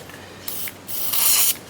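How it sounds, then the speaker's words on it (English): Aerosol can spraying into a stalled lawn mower, two short close hissing bursts with a brief pause between, the second longer and stronger. "spraying some of this in there."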